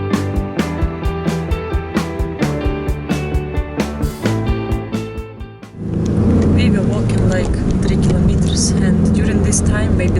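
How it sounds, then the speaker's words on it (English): Cars pass on a road on the way to hot springs in the United Arab Emirates. A rapid rhythmic rattle fades out, then a loud, close vehicle rush builds and holds. "this time maybe 3 cars passed"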